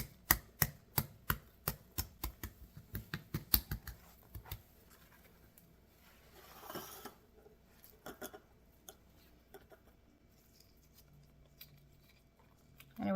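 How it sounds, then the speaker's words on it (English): Shells come off hard-boiled eggs as a fast run of sharp taps and cracks, then scattered softer crinkles and picks, close and fairly faint. "So I'm going to go ahead and get the shells off"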